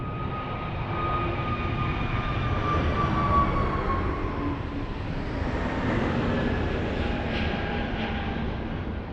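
Boeing 737 jet taxiing past at Lisbon Airport, a steady loud engine whine and rumble holding level throughout, with slowly shifting tones as it rolls by.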